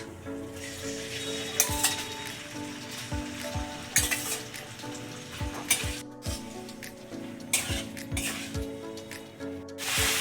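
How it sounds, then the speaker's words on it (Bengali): Cut prawns hit hot oil left from frying raw jackfruit and potatoes, sizzling loudly up close with frequent scraping stirs and clinks of a utensil against the pan, no voices. "এঁচড় আলু ভাজার তেলেই দিয়ে দিচ্ছি কেটে রাখা চিংড়ি মাছ"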